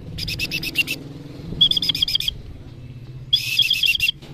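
A racing pigeon comes in during a 372 km derby from Pilar, Sorsogon, with bursts of bright chirping and fluttering in three clusters over steady outdoor background noise.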